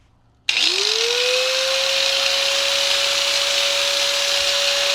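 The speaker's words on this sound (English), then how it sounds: "Just for the fun of it, I've got a grinder." An angle grinder powered from a 3kW inverter starts abruptly and spins up, then holds a loud, steady high whine with a harsh buzzing edge for several seconds.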